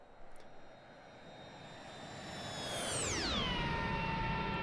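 A jet aircraft in the flight sim DCS, likely a Harrier, roars past with a rising whoosh and a sharply falling pitch as it flies by, engine noise swelling and lingering afterward.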